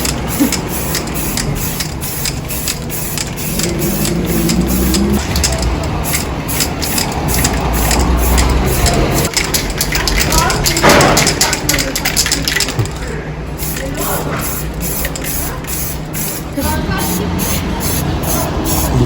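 Black spray paint being sprayed onto a dirty white mirror in a home kitchen, with repeated hissing bursts over a steady background hum and a person talking at times.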